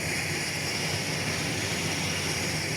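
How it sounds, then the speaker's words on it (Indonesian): A Wings Air airplane at Komodo Airport in Labuan Bajo, preparing for takeoff, gives off a constant engine drone and broadband roar, steady and moderately loud, with no talk over it. "Ini pesawat Wings Air mau take off."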